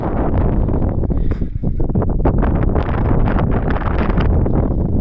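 Strong wind on a high mountain pass at about 16,300 feet buffets the microphone in loud, gusty roars that rise and fall, with a brief lull partway through.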